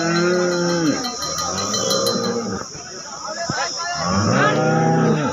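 Cows at the Sangola cattle market give loud, drawn-out moos close by, one at the start and another near the end, over a steady murmur of market noise.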